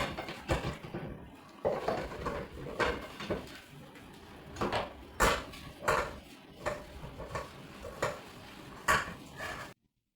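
Dishes, pots and pans being washed at a kitchen sink: repeated clatter and knocks of cookware and utensils, irregular and close, with running water and no talking.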